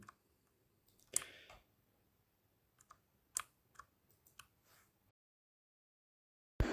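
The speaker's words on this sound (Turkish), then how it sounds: "O yüzden arkada böyle takır tukur ses çıkartmış mekanik klavye." Faint, sparse clicks from a mechanical keyboard used while recording a Minecraft Bedrock screen capture, scattered irregular taps in a quiet background with no talking.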